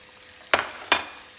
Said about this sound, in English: So let's go ahead and put the prawns in.